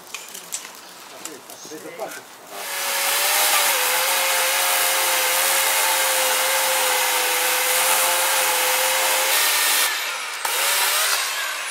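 Saw cutting through tough lilac wood during a courtyard cleanup, a steady loud buzzing drone that starts after a couple of seconds of quiet talk and runs nearly ten seconds with a brief break near the end.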